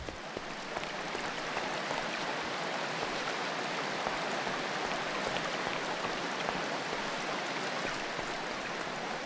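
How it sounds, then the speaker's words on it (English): Waterfall in the Minecraft Dalek Mod: a steady, soft hiss of splashing water, continuous and even throughout, with no voices. "At spawn we have a waterfall here."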